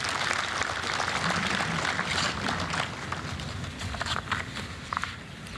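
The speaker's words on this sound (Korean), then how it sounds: "박수 부탁드리겠습니다." Audience applause at a 40th anniversary memorial ceremony for the May 18 Gwangju Democratic Uprising, a broad sustained clapping from a crowd, steady throughout with a few louder claps near the end.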